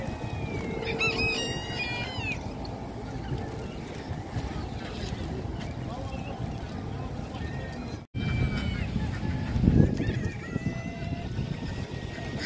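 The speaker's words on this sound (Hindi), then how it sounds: "ये अरबी नस्ल के कबूतर है।" Arabian breed pigeons and other caged birds chirp and call at a bird market in Kuwait, with scattered bird notes over a constant bed of crowd chatter and market bustle.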